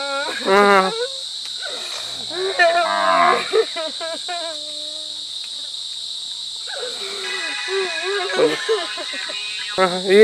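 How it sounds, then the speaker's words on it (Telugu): Cattle on a small dairy farm low and moo repeatedly, several long calls spaced through the scene, with steady insect chirping and a voice talking at times. "మీ మీ ఆవులేనా ఇవన్నీ"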